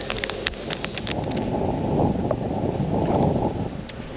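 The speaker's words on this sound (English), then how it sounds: "It's a little windy over here." Steady wind buffets the microphone with a dull, rumbling rush, while faint clicks and rustles sound in the background.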